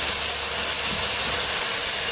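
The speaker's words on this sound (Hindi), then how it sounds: "तो पैन गरम हो गया है हमारा वापस, थोड़ा सा इसमें हम सरसों का तेल डाल, ये गया सरसों का तेल" Mustard oil sizzles in a hot pan while bhuna chicken curry is being made, a steady loud hiss of frying that runs unbroken throughout with no talk.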